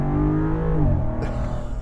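A supercharged 5-liter V8 in a Land Rover Defender 90 revving, a loud close engine roar whose pitch sweeps downward as the revs drop, followed by a steady rumble.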